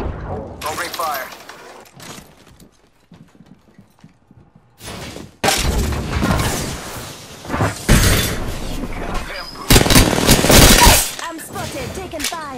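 Apex Legends gunfire in bursts of rapid automatic shots and single cracks, loud and close, with heavy volleys toward the end and game voice callouts in between.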